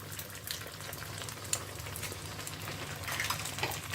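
Three eggs fry in a pan over a low flame, a soft, steady sizzle with faint crackles and no voices.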